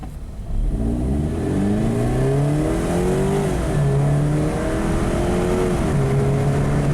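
A Scion FR-S/Subaru BRZ with an automatic transmission and a low-power stumble fault (P000A/B codes) accelerates hard from 0 to 60, its engine note climbing steadily through several gear changes, loud and close from inside the cabin.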